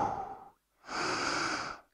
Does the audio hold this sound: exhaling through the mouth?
yes